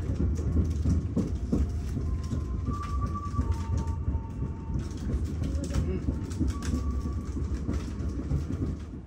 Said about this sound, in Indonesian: kereta api Mutiara Timur telah tiba di stasiun Kalibaru